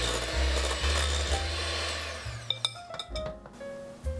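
Banana bread batter of milk, baking powder, salt, baking soda and cinnamon is mixed in a bowl, a loud continuous motorized whir that cuts off partway and gives way to a few sharp knocks and scrapes.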